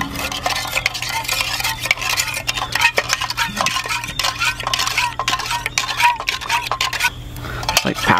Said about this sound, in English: We'll get our spoon out, give it a good mix.